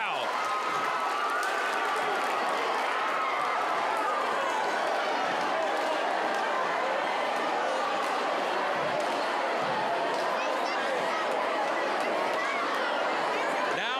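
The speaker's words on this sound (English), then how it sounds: "Listen to this crowd." A packed gym crowd at a high school boys' basketball game roars steadily with cheering, chatter and clapping, a dense unbroken wall of noise in the final seconds of a close game.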